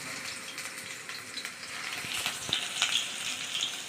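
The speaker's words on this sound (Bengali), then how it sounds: "এইভাবে তেলটা বেশি তাতাতে হবে না, মিডিয়াম তাতালেই হবে। এইভাবে বসিয়ে দেবো।" Fenugreek-leaf fritters sizzle in medium-hot oil with a steady crackling hiss, moderately loud, with a few sharper pops toward the end.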